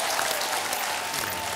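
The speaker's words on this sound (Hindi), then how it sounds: "फैंटास्टिक, तालियां आमिर के लिए." TV game show studio audience applauding for Aamir Khan, a short burst of dense, close clapping that stays loud and steady across the whole moment.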